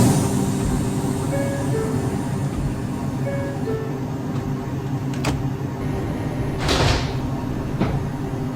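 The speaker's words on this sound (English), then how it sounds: "Stand clear of the closing doors," New York subway 2 train doors sliding shut at a Brooklyn College–Flatbush Avenue bound stop, a brief whooshing thud near the end over a steady station and train rumble with faint chime tones.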